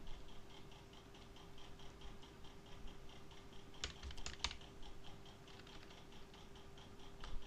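Fingers tap a computer keyboard in quick, steady clicks, with a brief flurry of louder keystrokes midway, faint and close over a low electrical hum.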